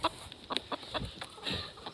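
A chicken clucks in short, scattered bursts, fairly close, with a few sharper squawks mixed in over a quiet outdoor background.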